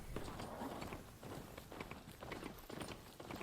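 Horse hooves clip-clop at a steady trotting rhythm in the video game Horizon Forbidden West, the faint, rapid footfalls repeating over a low rumbling backdrop.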